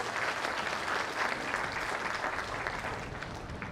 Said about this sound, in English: These children deserve a louder round of applause.